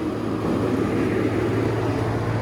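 1995 Range Rover Classic long-wheelbase engine stuck at a high idle, a close, steady droning hum with a constant low tone throughout.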